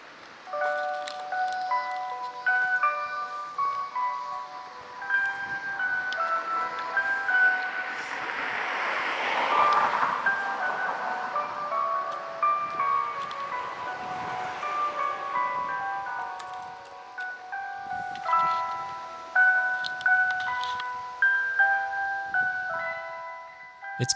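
Town loudspeaker music playing at sunset in Shimo-Suwa, Japan, heard as a distant, echoing chime-like melody drifting over a wide outdoor space, swelling and fading with a hazy wash of noise in the middle, no talking.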